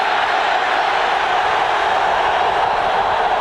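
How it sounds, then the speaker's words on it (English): Sellout crowd at Arrowhead Stadium during a 1994 NFL game between the Raiders and Chiefs, a steady broad roar of massed voices, loud and continuous throughout, with no distinct individual sounds. "Beautiful atmosphere here at Arrowhead Stadium with a sellout crowd"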